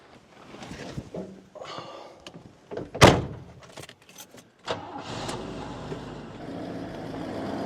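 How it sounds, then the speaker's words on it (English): A Squarebody truck's hood is slammed shut with a single loud, sharp metallic bang partway through, with rustling and handling noise around it and engine or road rumble picking up afterward. "Let me shut the hood."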